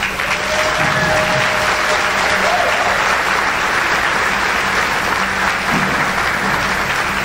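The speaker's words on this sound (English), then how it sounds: "if you guys would give them a round of applause" Steady, sustained applause from an audience at a high school academic awards program, loud and even throughout with crowd noise and a few voices faintly mixed in.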